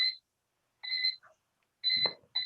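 A VEX IQ robotics competition match timer emits a series of short, bright electronic beeps in an uneven rhythm, with brief bursts of crowd noise between them at an indoor qualifier event.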